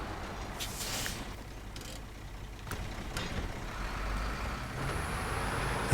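A heavy truck drives across rough terrain in the video game Snowrunner, its engine a steady, loud rumble that holds through the whole stretch, with a few brief clanks and hisses over it.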